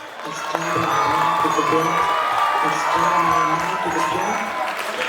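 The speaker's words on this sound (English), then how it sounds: "Please clap for him." Audience at a Tripura University freshers' meet clapping and cheering for a fresher coming onto the stage, steady dense applause with whoops and shouts running throughout.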